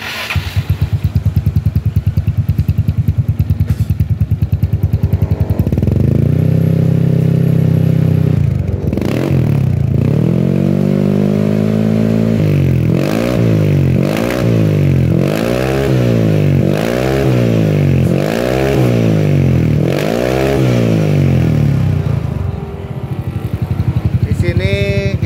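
A Yamaha Mio motorcycle with a modified bored-out exhaust and 58 mm spec idles loudly up close, then blips the throttle in a rapid series of about seven sharp rev surges and drops.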